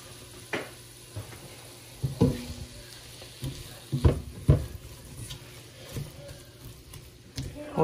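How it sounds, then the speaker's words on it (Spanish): Food frying in a pan with garlic powder, a quiet low sizzle broken by several short knocks and scrapes of stirring at an uneven pace. "Ahorita en lo que se fríe poquito"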